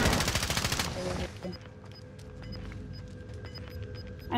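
Video game gunfire in Call of Duty: Modern Warfare Warzone, a rapid burst of automatic shots up front followed by scattered distant pops, while voices talk over it.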